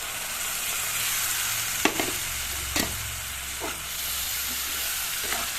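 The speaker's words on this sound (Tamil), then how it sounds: "இப்போ நம்ம அதை அரைச்சி வச்சுருந்து மசாலா ஊற்றிடலாங்க." Ground masala hits a pan of sautéed onions for a garlic egg fry, giving a steady close sizzle broken by a few sharp scraping stirs, with no voices.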